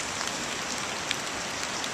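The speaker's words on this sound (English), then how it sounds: "It started to rain a bit harder" Steady rain falls in Brandywine Park during Hurricane Sandy, a constant even hiss of drops with a few faint taps standing out, close and unbroken throughout.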